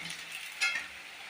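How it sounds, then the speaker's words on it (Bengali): Onion slices deep-frying in hot oil for a crispy snack, giving a brief, steady sizzling hiss that swells sharply for a moment and then settles. "এভাবে আমি বাকি পেঁয়াজগুলো ভেজে তুলব"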